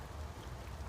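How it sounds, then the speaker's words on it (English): Steady light rain falling over a wet garden with damp soil and garden beds, a soft even hiss with no voices present. "if it wasn't raining earlier, it definitely is now"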